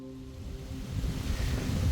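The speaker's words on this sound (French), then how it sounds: "Bon là, la rivière est toute petite" A small river flows at Moses' spring in Jordan, a steady broadband rush of water that swells slightly louder toward the end, with no voices.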